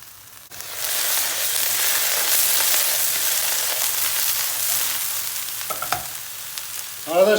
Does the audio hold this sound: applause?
no